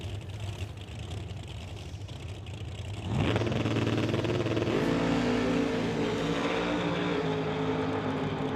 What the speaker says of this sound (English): Both cars staying right down the center of the groove as they head down the quarter